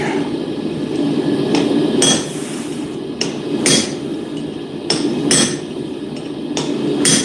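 A hammer strikes a mini hammer drift during a smithing session making rivet tools: about half a dozen sharp, loud metallic blows land at irregular intervals over a steady background hum.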